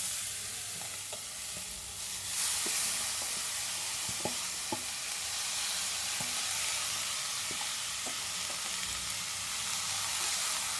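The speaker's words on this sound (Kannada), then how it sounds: "ಈಗ ಇದಕ್ಕೆ ಹಾಕ್ತಾ ಇದ್ದೀನಿ ಒಗ್ಗರಣೆ ಆಗಿದೆ ಹಾಕ್ತಾ ಇದ್ದೀನಿ" A steady sizzling hiss as hot tempering is poured onto soaked flattened rice, with scattered light clinks and stirring taps nearby.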